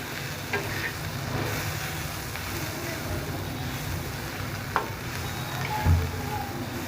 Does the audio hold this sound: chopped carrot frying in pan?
yes